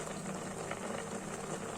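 Liquid bubbles at a steady rolling boil in a pot while vermicelli sheera is cooked, a continuous close simmering hiss with dense bubbling and no voices.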